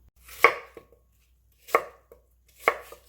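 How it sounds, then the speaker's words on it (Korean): Three crisp knife chops through an apple on a cutting board, spaced about a second apart, each with a small follow-up tap, in a quiet room. "사과 1개 썰어줄게요."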